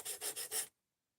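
A knife blade is drawn across a sharpening stone in four quick rasping strokes, close and distinct, followed by silence.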